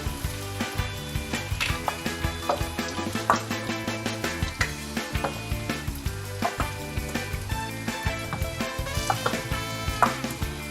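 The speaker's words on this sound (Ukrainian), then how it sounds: "починаємо смажити на добре розогріті пательні ми будемо смажити деруни наші" Grated potato pancakes sizzle and crackle steadily in a well-heated frying pan, with clear pops and occasional clinks of a utensil, close and without talk.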